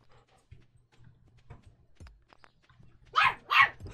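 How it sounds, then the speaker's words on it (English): Two loud dog barks come close together near the end, after quieter faint knocks and shuffling. "If you guys hear those noises, we have dogs."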